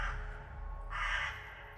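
Ravens cawing in the horror video game Bad Dream: Coma, harsh calls rising midway over a low droning ambience, fairly close and loud.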